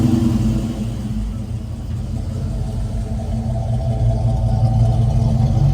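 A 1969 Chevrolet Camaro RS/SS convertible idles with its Flowmaster exhaust, a steady low rumble holding evenly throughout with no revving and no voices.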